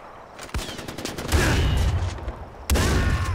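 Rapid gunfire from the video game Far Cry 4, with a sharp shot, then sustained automatic bursts, a short lull and another loud volley, close and forceful.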